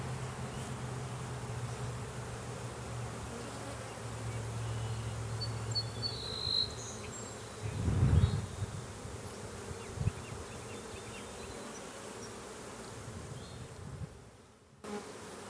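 Dense, steady drone of a mass of honey bees swarming around an open hive during a frame inspection, continuous and close with a few louder passes, no talk.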